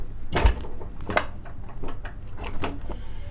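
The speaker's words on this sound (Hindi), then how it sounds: "कुकर को हम बंद करेंगे।" A few clicks and clunks of a pressure cooker's metal lid being fitted and locked into place over aloo qeema, close up, with faint background noise between.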